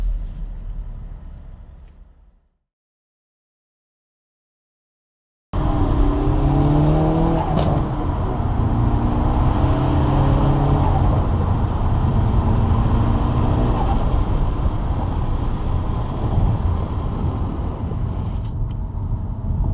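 A Hyundai Veloster N engine heard while driving, cutting to near silence for a few seconds before the car roars back loud and close, with revving accelerations and steady road rumble throughout.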